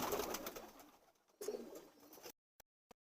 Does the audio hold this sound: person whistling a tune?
no